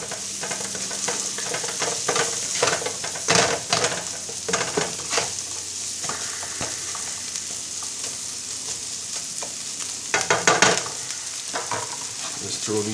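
Omelet ingredients sizzle steadily in a hot frying pan while a utensil stirs and scrapes them in irregular bursts, loud and close, with a sharper cluster of clatter near the end; no talking.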